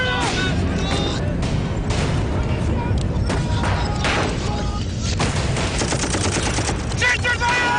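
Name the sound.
gunfire during a desert ambush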